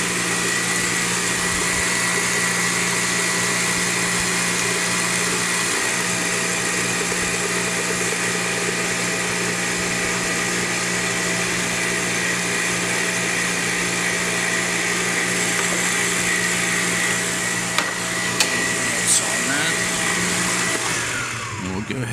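An electric mixer runs steadily for about twenty seconds, mixing a no-sugar pie filling in a bowl as sweetened condensed milk is added, with a constant whirring motor drone and a brief clatter near the end.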